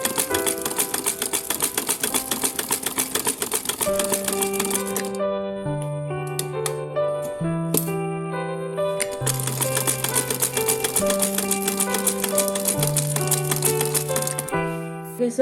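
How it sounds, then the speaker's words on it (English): A sewing machine stitches around a beginner's fairy skirt with a fast, even mechanical chatter that runs nearly nonstop, over soft background music with sustained notes. "Now you're just going to sew it all together all around the skirt"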